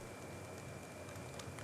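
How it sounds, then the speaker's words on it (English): Heavy rain teeming down on an outdoor road-race course, a dense continuous hiss with no breaks, steady and enveloping. "With the rain teeming down"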